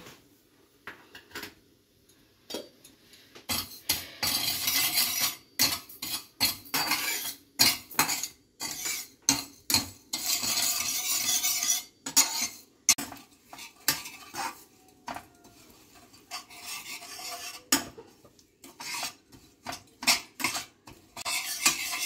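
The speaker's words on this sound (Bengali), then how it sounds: "এই চিনি দিয়ে দিলাম 2 চামচ। এটাকে একটু ক্যারামেল করে নেব।" Spoon stirring two spoonfuls of sugar as it caramelizes in a pan, heard as repeated metallic scrapes and clinks against the pan in irregular bursts with short quiet gaps.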